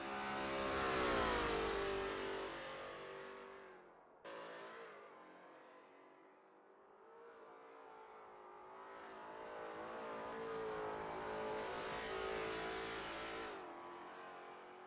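Race cars warming up at the Österreichring 1979 chicane in a racing video game, a Lola T70 MkII Spyder among them, engines swelling and fading as they pass, rising to loud revving and dropping away in long sweeps.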